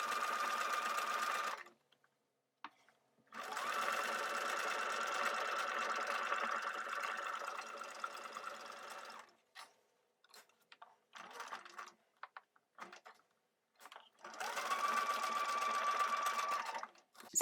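A sewing machine stitches a tiny doll-clothes collar in bursts of steady rapid whirring, stopping between runs with brief clicks and handling noises in the quiet gaps.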